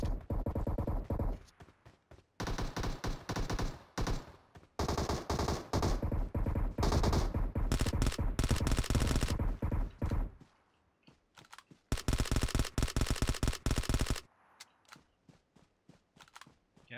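Rapid automatic gunfire from the video game PUBG Mobile rattles in long, dense bursts separated by brief silences, loud and close, with faint clicks between volleys.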